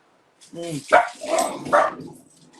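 A few quick barks from dogs nearby, overlapping and closely spaced, loud against an otherwise quiet room.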